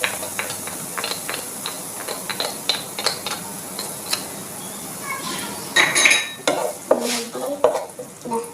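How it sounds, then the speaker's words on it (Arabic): Onions added to hot oil in a pan sizzle and hiss steadily, with clinks of a utensil stirring against the pan, close, and a voice talks over it. "بعد ما يحمل الزيت نضيف عليه البصل"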